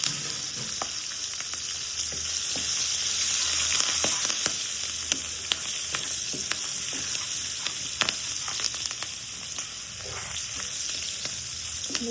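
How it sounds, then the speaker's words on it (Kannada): Ginger and green chilies fry on a low flame in a continuous close sizzle, crackling with scattered sharp pops and light stirring, and no one speaks. "ನೀಟಾಗಿ ಇದು ಲೋ ಫ್ಲೇಮಲ್ಲಿ ಫ್ರೈ ಮಾಡ್ಕೋಬೇಕು"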